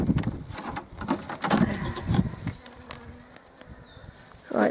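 Bees buzzing at an opened garden beehive, with close buzzing drones that swell and fade in uneven bursts, louder in the first half, then quieter and thinner with a brief loud pass at the end.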